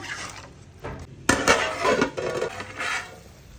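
A country chicken curry with plenty of water is stirred in a pot, giving scraping and clinking of a spoon against metal in bursts, closer and louder partway through, with no voices.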